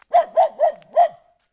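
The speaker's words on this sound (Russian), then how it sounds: "Не гавкай." A dog barks four times in quick succession, loud and close, each bark short and sharp with a brief whine trailing off at the end.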